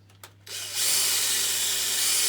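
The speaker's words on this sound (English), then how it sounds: "pull it up towards you whilst you're running the drill around it" A power drill whirs up to a steady, loud continuous whine after a few brief starts, running close by without pause as it is run around a motorcycle handlebar grip.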